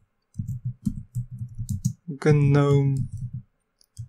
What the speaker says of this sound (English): And now I'm just going to type in sudo apt